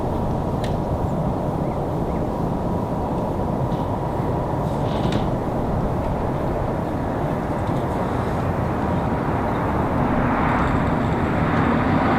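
A plane at Raleigh-Durham International Airport roars past as a broad, steady engine rumble that holds loud and constant throughout, with no talking.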